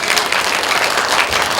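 Church congregation applauding during a revival service, a dense, steady burst of clapping filling the whole short moment at close range.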